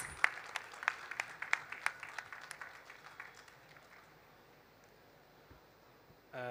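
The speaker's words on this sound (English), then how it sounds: "A big, big round of applause for His Excellency" A conference audience applauds the Omani ambassador: several sharp, close hand claps stand out over a softer spread of clapping for the first few seconds, then it fades to quiet room noise before a short burst of sound at the end.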